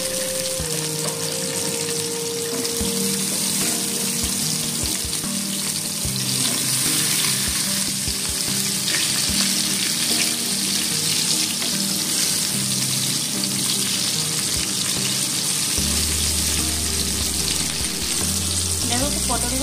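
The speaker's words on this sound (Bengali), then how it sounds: "পটলগুলোকে একটু ভেজে নেব।" Pointed gourd (potol) pieces fry in oil in a pan with a constant, close hiss and sizzle, plus occasional clinks and stirring knocks.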